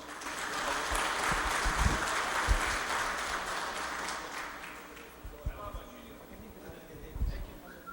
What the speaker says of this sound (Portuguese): Por favor, salva de palmas.